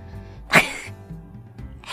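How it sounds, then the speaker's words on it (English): A woman gives one forced, deliberate fake sneeze, a sharp loud burst that stands out briefly against a quiet, low background. "That's my fake sneeze."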